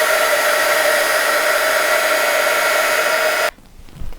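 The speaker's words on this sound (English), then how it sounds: "I'm going to emboss. I'm going to put the heat onto it." An embossing heat tool blows hot air onto a handmade wand, a loud steady whoosh with a high whine that runs unbroken for about three and a half seconds, then cuts off abruptly, leaving quiet room noise.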